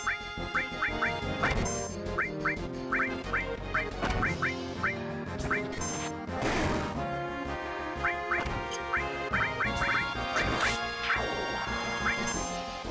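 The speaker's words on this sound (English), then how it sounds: "That's a lot of chickens." Chickens in Final Fantasy VII cluck in rapid repeated bursts over game music, with crashes and hits mixed in, fairly loud and rhythmic throughout.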